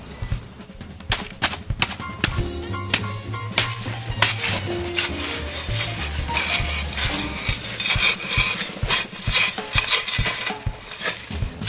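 A mutt stirs concrete and water in a fence post hole, repeated scraping and clattering strokes with irregular knocks, fairly close and steady throughout.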